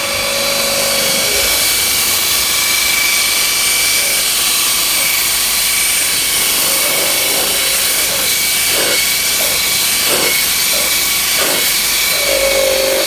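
Karcher SE3-18 cordless spray extractor running with a loud continuous suction hiss and motor whine, intermittent scrubbing and gurgling as it sprays and draws liquid back up from fabric.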